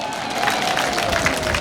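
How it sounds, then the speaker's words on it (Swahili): Students at a teacher-training college conference in Singida applauding themselves: a brief burst of dense, loud crowd clapping filling the room. "Hebu mjipigie makofi."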